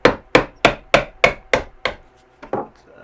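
Hammer blows tapping a bushing out of the front A-arm on a 1992 Banshee ATV: about ten sharp, close metallic knocks in a quick, even rhythm, with a brief pause before the last few.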